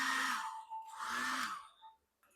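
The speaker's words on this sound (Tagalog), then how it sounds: "painitin lang natin to ng blower" A hot-air blower runs in steady whooshing bursts, warming the plastic peg joints of a Yolopark Evangelion Test Type 01 AMK Pro toy figure, with a brief pause between two blasts and a faint click at the end.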